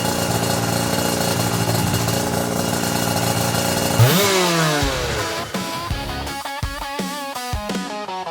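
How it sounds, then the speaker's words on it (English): An Aprilia RS125 two-stroke motorcycle engine runs loud and steady, then is blipped and revved in sharp rising and falling bursts, with a buzzy, raspy tone and crisp throttle stabs. "Then you have that nice little 2-stroke engine."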